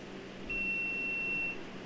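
A kitchen timer sounds a single steady electronic beep, lasting about a second, fairly faint over a low background hum.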